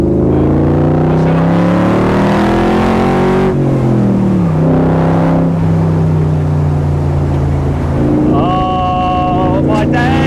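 A Superformance MKIII Shelby Cobra fitted with a Chevy GM LS3 V8 revs hard close by, a deep loud rumble climbing and falling through several revs before settling into a throbbing idle.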